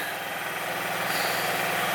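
A third-generation Mitsubishi Pajero's 3.2-litre 4M41 twin-cam diesel, brought over from Belgium, runs at a steady idle with an even low rumble and a soft rhythmic throb, heard close and alone.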